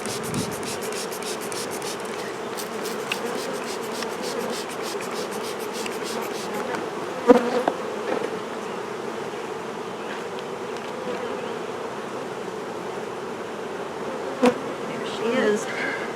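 Agitated honeybees hum steadily in the brood nest of their hive, a close, dense buzz with occasional scrapes and knocks, and someone briefly speaks over it.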